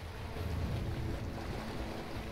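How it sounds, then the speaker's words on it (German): Lara swims through murky swamp water in Rise of the Tomb Raider, a steady, soft watery wash and rush that sounds faint and even, with no talk. "Wir gehen weiter und schwimmen wieder ein bisschen durch den Morast hier."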